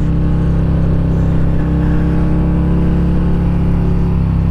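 A motorcycle accelerates out of a curve after trail braking, its engine droning steadily and loudly with a continuous rising hum and wind noise throughout.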